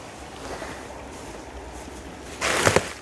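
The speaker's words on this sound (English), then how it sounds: "And there's some rapids up there." Steady broadband rush of water from the Smith River, with rapids somewhere upstream, heard as constant moderate hiss across the whole stretch, swelling louder near the end with a couple of brief splashy bursts.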